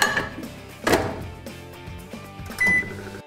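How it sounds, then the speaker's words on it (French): Microwave oven heating a potato topped with cheese and smoked bacon: a steady hum and rumble with a few clicks and a brief higher tone, close and moderately loud. "Je la laisse chauffer au micro-ondes pendant environ 6 minutes à puissance maximale."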